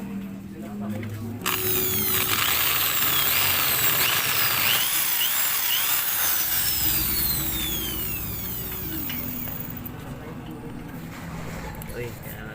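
A power drill bores into a broken screw in the cylinder head of a Raider 150 motorcycle, a loud, steady high-pitched whine that holds for several seconds and then eases off, close up.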